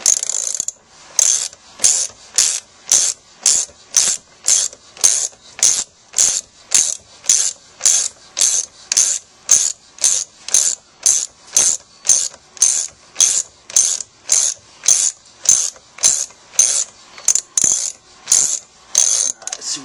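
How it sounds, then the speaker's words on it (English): A ratchet wrench backs out the 12 mm axle on a 2005 Suzuki M50 Boulevard motorcycle, loud close clicking in regular bursts, about thirty quick repeated strokes with no voices. "screw that axle out"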